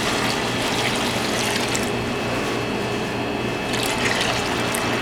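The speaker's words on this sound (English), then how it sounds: "I'm going to pour some of this liquid off." Liquid whey pours steadily into a container while making mozzarella, a continuous close splashing rush that barely changes from start to finish.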